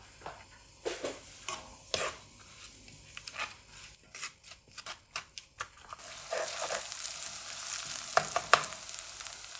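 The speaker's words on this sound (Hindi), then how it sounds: "अब प्याज डाल देंगे, इनको थोड़ा सा हम फ्राई करेंगे।" Onions sizzle in a pan while a utensil scrapes and stirs in uneven strokes, the frying hiss growing steadier and louder toward the end.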